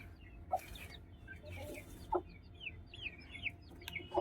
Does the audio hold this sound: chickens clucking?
yes